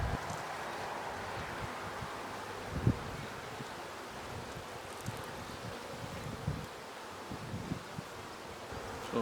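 Honey bees buzz in a soft, continuous drone during a hive cutout, with occasional light knocks and rustling handling noises scattered underneath.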